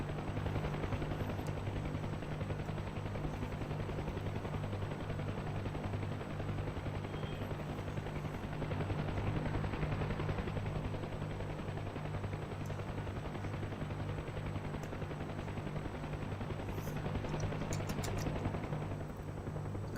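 A helicopter in a flight video game on a search and rescue mission, heard as a steady, droning rotor and engine hum that holds at an even level throughout, with a few faint sharp cracks near the end.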